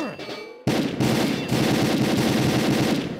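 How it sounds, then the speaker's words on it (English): Rapid automatic gunfire from the shooter game Combat Arms rattles in a dense, loud burst after a brief lull, pausing once and then resuming as a continuous close volley. "One is shooting from the middle."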